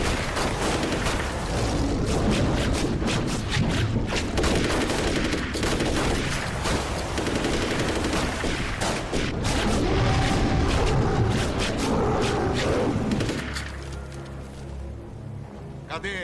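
Several guns fire at a shark in a film scene, producing a dense, loud fusillade of rapid overlapping shots and booms that fades into a quieter tail near the end.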